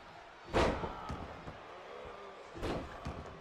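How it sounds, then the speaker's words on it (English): In the WWE 2K23 wrestling video game, a wrestler's head is slammed into the mat, producing two heavy, booming thuds about two seconds apart over a low arena murmur. "And slamming Sid's head into the mat multiple times."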